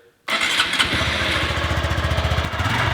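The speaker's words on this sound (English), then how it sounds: "Let's get a cold start up of this Grom so we can hear what it sounds like" After a brief moment of quiet, a Honda Grom motorcycle with a dual aftermarket exhaust fires up from cold and settles into a loud, pulsing idle close by.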